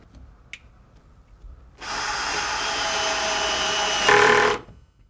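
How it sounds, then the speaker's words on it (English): A power driver sets screws into the door hinges of a Red Sea MAX S-Line aquarium cabinet, with one steady whirring run of about three seconds that rises slightly before stopping, close and clear. "now I'm going to put in the extra 2 screws on every hinge to anchor it properly into position"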